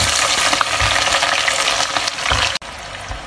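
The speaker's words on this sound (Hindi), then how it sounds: "पहले मैं इसमें भिंडी फ्राई कर लूंगी और साथ आधी प्याज।" Okra and onion fry in half a cup of oil in a pan, a loud, dense, close sizzle that crackles steadily and cuts off abruptly near the end before resuming.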